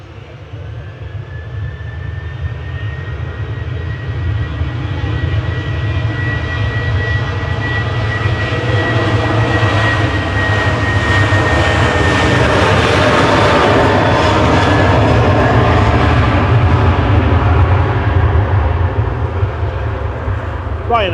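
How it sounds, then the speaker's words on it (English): A Ryanair jet airliner departing Manchester Airport, a loud continuous engine roar with a rising whine that holds steady and swells through the whole stretch, with no voices over it. "Ryanair's EIDCL departing back to Madrid there with flight 3187."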